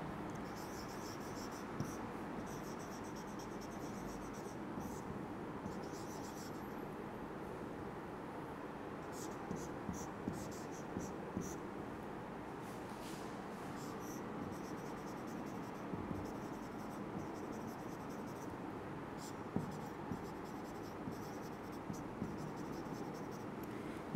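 A pen or marker scratches across a board as a teacher draws a kidney tubular cell diagram, producing faint intermittent scribbling strokes over a quiet room hum.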